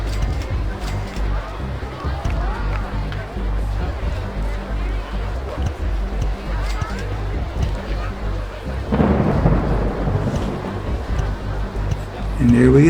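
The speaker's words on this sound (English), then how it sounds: "And there we go, with the rain," Rain and thunder roll through a RollerCoaster Tycoon Classic park in a steady wash of downpour with low rumbles, swelling louder about two-thirds in, while someone talks over it.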